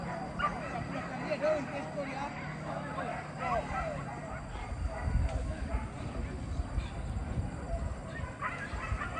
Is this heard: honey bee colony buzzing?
no